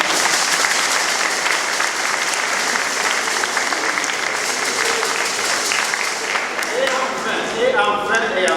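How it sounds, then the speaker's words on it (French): Sustained applause from a large crowd at a first communion fills an echoing church, steady and loud, with a voice briefly heard in French as the clapping begins to fade. "Vous pouvez les applaudir aussi."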